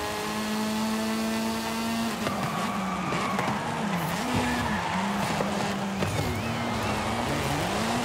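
In the Forza Horizon 5 video game during a multiplayer race, a car's engine drops sharply as it brakes hard, tires squealing and skidding, then the revs climb and fall again through the corner, loud and continuous.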